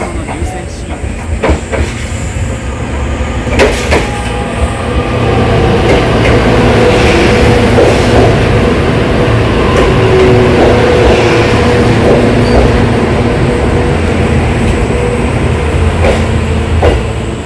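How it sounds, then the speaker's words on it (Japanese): A train rolls into the platform at Bandai-Atami station on the Ban'etsu West Line in Japan, a steady loud rumble with rhythmic wheel clatter building and holding close by for the whole stretch. "里野の入線シーンです。"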